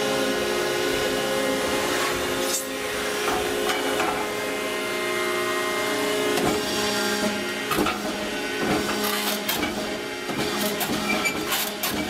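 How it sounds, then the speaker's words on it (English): A cold rolling machine forms steel strip into a screw flight in a pump factory, giving a loud, continuous mechanical drone with steady tonal hum and occasional clanks and knocks, no voices. "The machine uses a cold rolling process to form the steel strip into the required shape."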